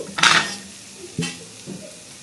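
Cashews drop into a pan of carrot halwa with a couple of short scraping clinks of utensil on metal, a brief soft sizzle between them, close and alone.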